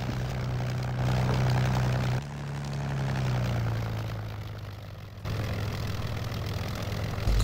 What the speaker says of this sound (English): I'm the Red Baron now. I got Red Fokker